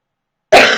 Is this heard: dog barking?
no